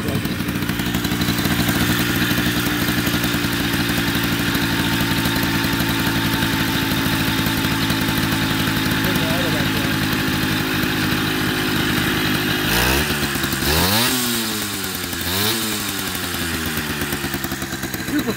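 A Puch DS60 two-stroke scooter engine runs close and loud throughout, with a steady buzzing idle that rises in a few quick revving swells near the end.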